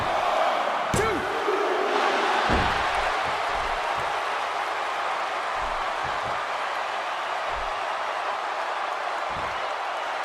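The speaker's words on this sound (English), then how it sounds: "by the sound of this crowd, I think they're getting what they wanted" Arena crowd in the wrestling video game WWE 2K16 roars steadily through a one-on-one match, a loud sustained wash of cheering with a few thuds and slams from the ring and a commentator talking over it.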